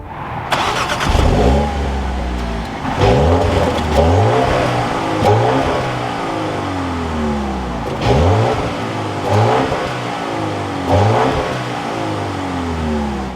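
A 2024 BMW X2 M35i engine fires up with a sharp burst, then revs repeatedly in loud, rising and falling blips close by, settling between pulls, with no talking.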